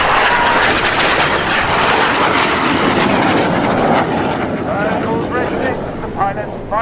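A display jet roars past at an air show, performing tight turns with a loud sustained engine rush, while a commentator talks over the noise.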